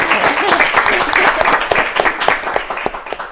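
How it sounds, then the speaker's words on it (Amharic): Studio audience applauding a child singer at a children's singing competition on Ethiopian television: dense, lively clapping with a voice speaking over it, tapering slightly toward the end. "ወይኔ አጨብጭቡላት ሲወደ አጨብጭቡላት።"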